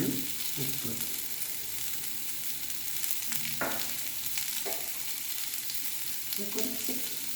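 Mustard seeds, urad dal and cumin splutter in hot oil with a steady close sizzle and scattered sharp pops, frying on without any voice.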